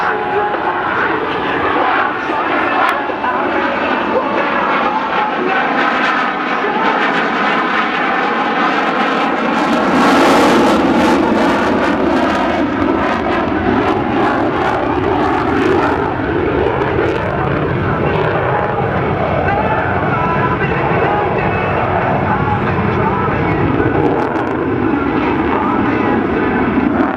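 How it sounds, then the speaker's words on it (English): A Boeing F/A-18C Hornet jet on an air show demonstration flight roars loudly and continuously, its engine noise swelling and shifting as it maneuvers through a half Cuban 8, with voices faintly under the din. "Demonstrating the maneuverability and superior thrust-to-weight ratio of the F-A-18 and the 1/2 Cuban 8."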